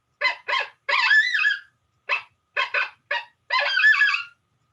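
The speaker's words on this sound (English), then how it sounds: "That's a pup learning how to howl." A coyote pup in Connecticut practices howling in a clean recording, giving short high yips and squeaky bursts that break into two wavering, strained howl attempts, loud and close with silence between calls.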